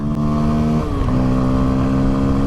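A Rieju Aventura 307 motorcycle engine revs loudly and close while climbing a steep uphill, its pitch dipping briefly at a gear change before it keeps pulling.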